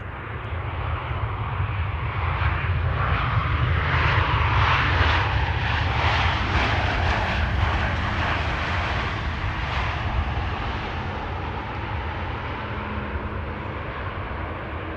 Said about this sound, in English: another KLM A330 arriving from Vancouver